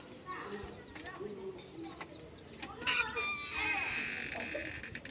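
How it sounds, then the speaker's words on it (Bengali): Pigeons coo inside a pigeon loft, soft throaty calls scattered among rustling and faint chirps, with people talking nearby through much of it. "এবার ভেতরে ঢুকে তোমাদেরকে চলো দেখাই আমাদের কবুতরগুলো কেমন কি আছে।"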